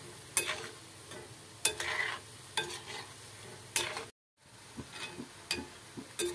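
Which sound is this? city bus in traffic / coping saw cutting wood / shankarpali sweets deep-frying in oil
shankarpali sweets deep-frying in oil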